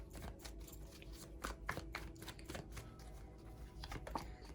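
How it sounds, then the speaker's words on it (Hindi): Tarot cards are shuffled and drawn in a quiet room during a reading, soft repeated riffling and flicking taps at close range, faint and irregular, with no talking. "और कार्ड लेते हैं।"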